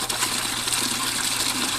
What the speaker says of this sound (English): We're flushing all the stuff in the bottom of the tank.